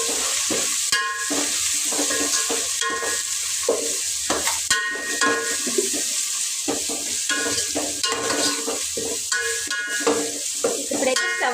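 Spices for egg biryani, with bay leaf and pepper powder, stirred and frying in a pan, a continuous close sizzle with repeated scraping strokes of a spoon against the metal.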